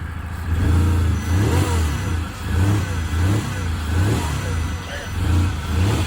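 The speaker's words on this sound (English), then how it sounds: "It sounds like a mini V10." A Seat Altea FSI petrol engine runs nearby with a low, pulsing drone that swells and dips in repeated revs.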